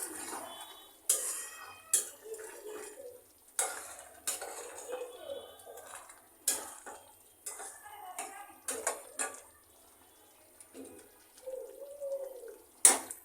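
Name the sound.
lifting lid and stirring chicken biryani in pot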